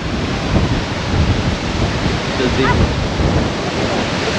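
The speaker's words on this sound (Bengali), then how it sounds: "just look at that waterfall" A massive waterfall on the road from Sela Pass to Tawang thunders with a dense, steady roar of falling water and spray, loud and close throughout.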